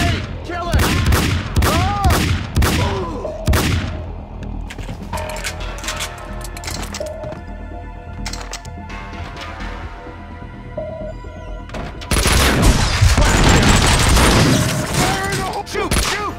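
Dense, loud gunfire from the Max Payne 2 video game, with rapid overlapping shots and booms. A thinner, quieter stretch in the middle gives way to a heavy barrage again near the end.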